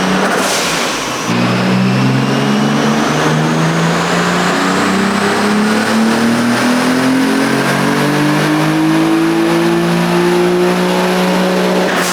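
A Nissan 300ZX convertible with a swapped twin-turbo VG30 engine makes a full acceleration pass, its loud engine tone climbing steadily through the gears in one continuous, close, sustained roar with no talk.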